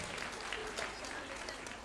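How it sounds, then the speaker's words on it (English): Audience at a school's ruby jubilee celebration giving a round of applause, a dense, continuous patter of many hands clapping with crowd voices mixed in. "Please put your hands together and give them a very big round of applause."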